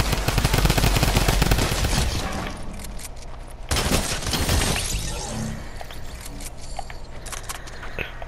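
Rapid drum gun gunfire in a Fortnite Arena duos endgame, loud sustained bursts of automatic shots, a pause near four seconds, then more volleys fading under ongoing game noise.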